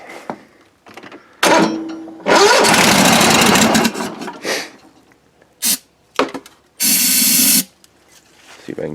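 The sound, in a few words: Toro lawn mower engine starting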